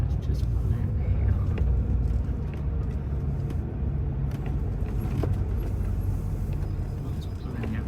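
A lorry on a trip from Portugal to the UK pulls in, heard from the cab as a steady low engine rumble and road drone with faint rattles, continuous and close.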